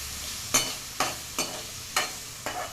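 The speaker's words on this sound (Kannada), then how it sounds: "ಚಿಲ್ಲಿ ಮತ್ತು ಟೊಮೆಟೊ ಹಾಕೊಂಡ್ಮೇಲೆ ಸ್ವಲ್ಪ ಫ್ರೈ ಮಾಡಬೇಕು" Chilli and tomato frying in a pan, five evenly spaced scraping stirs of a spatula over a low sizzle, close and clear.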